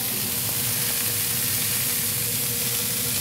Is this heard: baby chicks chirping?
no